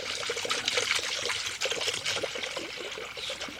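Antifreeze glugs and trickles as it is poured into the cooling system of a Nissan engine during a head gasket replacement, a close, steady liquid pour with small splashing pulses and no talk.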